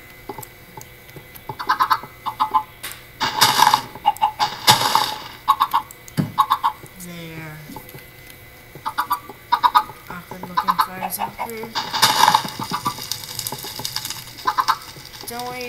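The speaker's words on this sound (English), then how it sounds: "Don't worry, chickens." Chickens cluck in the Boardcraft video game, scattered short clucks and squawks coming in irregular bursts alongside other game noises.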